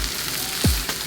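Rice toasting in oil in a pan after chicken has been seared, a brief close sizzle with a soft stirring scrape partway through, alone without speech.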